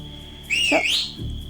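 A single sharp whistle, a brief rising-and-falling tone lasting about half a second, followed by a low thud in a quiet setting.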